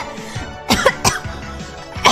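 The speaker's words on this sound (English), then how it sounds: "I'm coughing for real! I freaking inhaled some spinach!" A person coughs hard several times in quick bursts after inhaling a bit of spinach, close and loud, with throaty hacks and throat clearing.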